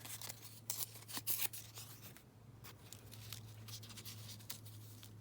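Leftover 12 x 12 paper scraps torn by hand, with a few quick close rips and rasps early on, then faint rustling and scratchy handling over a quiet hum.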